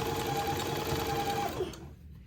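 A sewing machine runs a steady, close zigzag stitch beneath a pleat on a child's daygown, humming and whirring continuously before winding down and stopping.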